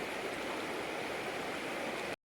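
A forest river streams past in a steady, soft rush of flowing water, heard alone and evenly for about two seconds before cutting off.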